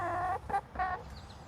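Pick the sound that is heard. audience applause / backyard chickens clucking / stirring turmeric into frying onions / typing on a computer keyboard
backyard chickens clucking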